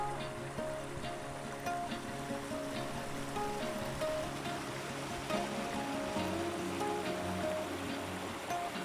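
Water flows and babbles steadily nearby, a soft continuous rush with no voices.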